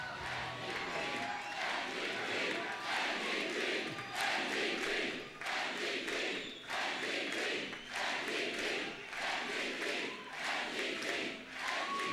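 A large crowd cheers and roars steadily at Jack Layton's election night rally, a dense, continuous wash of voices with swelling surges throughout, loud and close with no single voice standing out.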